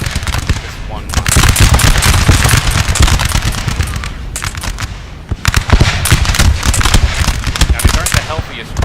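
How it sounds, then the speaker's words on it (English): Dense British musket line volleys in the Napoleon Total War video game, a continuous crackle of rippling shots with heavier bursts across the whole stretch, loud and close, with a brief lull near the middle before firing resumes. "Three British lines opening fire."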